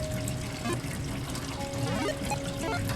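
Hot water running from a sink tap in the horror comedy game Discount Nightmares The Gulch, a steady moderate trickle and pour with faint game tones underneath.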